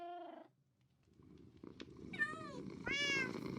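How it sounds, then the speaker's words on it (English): A cat meows several times nearby in drawn-out, rising and falling calls, with a soft purring rumble underneath. "thank you for the meow"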